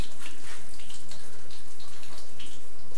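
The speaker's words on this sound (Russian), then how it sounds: "вода бежит очень и очень вяло" Water runs weakly from a tap in a new apartment in a steady, thin hiss, continuous and close, with no other sounds.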